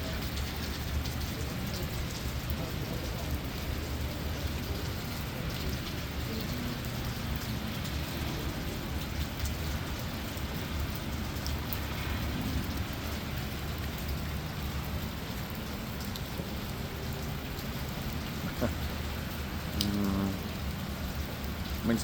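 Heavy rain pours steadily during a thunderstorm in Memphis, a dense constant hiss of drops on surfaces with faint distant traffic and no clear thunder clap.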